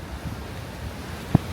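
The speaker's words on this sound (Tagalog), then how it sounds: "Sobrang lakas ng hangin." Steady typhoon wind on Boracay buffets the microphone with a low rumbling roar, and one brief thump cuts through near the end.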